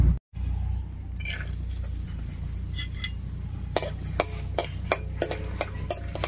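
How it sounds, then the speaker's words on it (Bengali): Peanuts frying in hot mustard oil in a wok: a soft, steady sizzle under a run of light clicks and taps from the nuts being stirred, close and fairly quiet. "প্রথমে তেলের মধ্যে কয়েকটা বাদাম ভেজে নামিয়ে নিচ্ছি"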